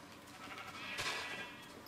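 A sheep in Minecraft lets out a single short bleat, faint and somewhat distant, with no talking.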